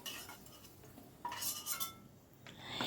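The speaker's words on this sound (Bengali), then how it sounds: "এবার আলুটাকে আমি সরিয়ে রাখছি অন্য একটা পাত্রের ভেতর।" Fried potatoes being shifted from a cooking pan into another pot, with metal utensils scraping and clinking against the cookware in a few short bursts, fairly close and without talk.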